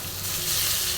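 Grated mango frying with coconut tempering in a pan, a close, dense sizzle that stays loud and even for about a second.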